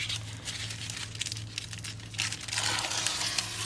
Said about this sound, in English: I wonder if this is dry enough for me to tear it